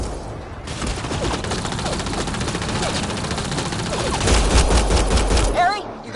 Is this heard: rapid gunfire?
yes